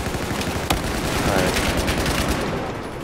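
Dense, continuous gunfire rattles through a Battlefield 4 match, with rapid overlapping shots and one sharp, loud crack near the start. The shooting stays close and steady for the whole clip.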